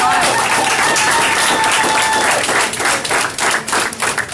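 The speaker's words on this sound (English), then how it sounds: "Y'all come on, clap it up one more again." Crowd applause and clapping at a Garvey Day 2019 community gathering of a Chicago chapter, loud and dense, thinning toward the end into more distinct individual claps, with some voices mixed in.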